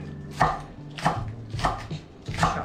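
A knife chopping spring onions on a board in a home kitchen, four crisp, evenly spaced cuts close by, with no talking.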